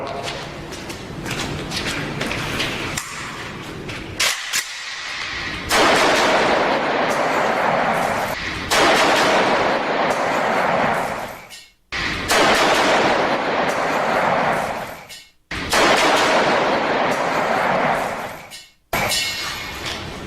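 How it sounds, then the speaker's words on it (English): An AK-47 rifle fires sustained, loud bursts of automatic gunfire at close range, broken by several short silent gaps between long volleys, with some metallic clinking in between. "This is my AK-47, and today I get to shoot my boss."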